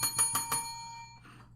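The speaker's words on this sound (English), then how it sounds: "That's the bell." A small bell rung during a charity telethon, four quick bright rings followed by a fading metallic ring-out, heard alone and close.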